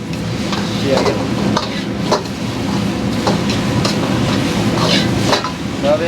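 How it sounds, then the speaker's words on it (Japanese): Noodles stir-fried in a hot wok with sesame oil in a Chinese restaurant kitchen, loud continuous sizzling with repeated scraping and clanking strokes of the ladle against the metal pan, close up and without talk. "最後にまた ごま油を落としてし っかりこう焼きの香りをね麺に乗るように"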